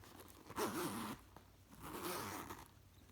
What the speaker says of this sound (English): Zippers are nice and responsive, nice and thick.